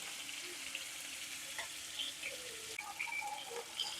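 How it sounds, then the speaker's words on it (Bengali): Hilsa fish pieces fry in hot oil, giving a faint, steady sizzle with scattered light crackles and pops close by, with no one speaking. "মাছগুলোকে ভেজে নেবো ভালো করে।"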